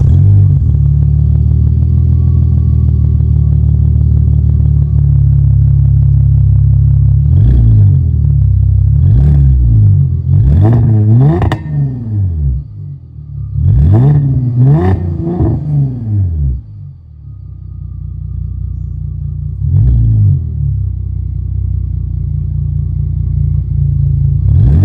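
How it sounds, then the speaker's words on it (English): A Cadillac CTS wagon with Flowmaster exhaust idles with a deep, loud burble, then revs in several sharp blips and longer climbs that fall back to a steady rumbling idle, recorded up close with no talk. "That is the exhaust that I'm running right now on my wagon."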